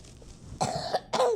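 A person nearby coughs twice in short, harsh bursts, the second following closely after the first.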